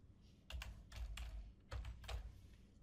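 A computer keyboard is tapped at close range to enter a stock symbol, giving two short clusters of soft keystrokes with a pause between them and no voice.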